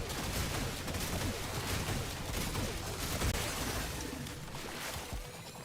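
New archgun firing in Warframe's Orb Vallis, a dense, continuous barrage of rapid shots and impacts that stays loud and busy throughout without pause.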